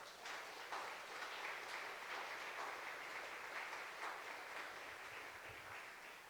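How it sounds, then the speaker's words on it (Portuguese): A church congregation gives a round of applause, a faint, distant wash of steady clapping that continues evenly for several seconds. "Dê um aplauso a Ele por isso."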